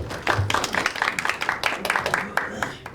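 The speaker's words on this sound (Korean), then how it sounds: "박수 부탁드립니다" Applause from an event audience greeting a law firm's representative at a startup party, scattered claps rising after a short pause and continuing with uneven bursts, with talk mixed in.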